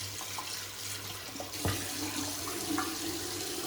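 Running tap water splashes steadily into a sink as a shaving brush is rinsed, close and moderate, with a brief knock partway through.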